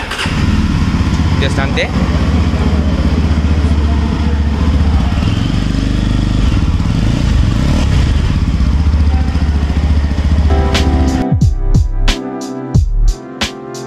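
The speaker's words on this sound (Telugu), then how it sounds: "ఒకసారి మనం ఇంజన్ స్టార్ట్ చేసి ఎగ్జాస్ట్ నోట్ కూడా ఇందాము" A Yezdi Roadster motorcycle engine runs with a loud, steady exhaust rumble throughout, with a burst of sharp clattering revs near the end; someone speaks briefly.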